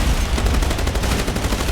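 Gunfire in the naval video game Age of Water: a loud, dense, continuous volley of rapid shots, steady and unbroken throughout, with no talking.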